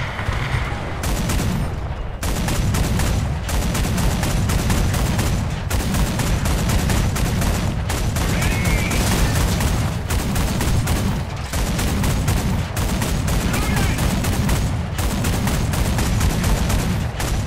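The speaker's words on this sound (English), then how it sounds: "I'm gonna drop some artillery" Artillery fire in the War Thunder video game: a dense, loud barrage of booms and blasts running continuously, with brief gaps between bursts of rapid gunfire, no voice over it.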